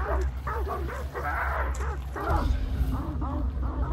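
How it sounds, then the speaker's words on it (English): Dogs barking and yipping in the Hunt: Showdown video game, repeated barks over a continuous low game rumble, fairly loud and close, with voices talking faintly underneath. "Dogs behind us."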